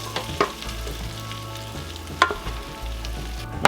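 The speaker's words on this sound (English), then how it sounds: "I want to see that searing on there" Beef sausage sears in a hot pan with a steady close sizzle and frying crackle, a few sharp pops and scrapes breaking through.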